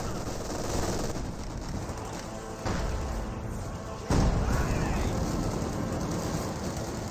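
Gunfire from Company of Heroes 2, dense battlefield shooting with bursts and heavy thuds from StuG assault guns, loud and continuous with sharp impacts near 2.7 and 4.1 seconds.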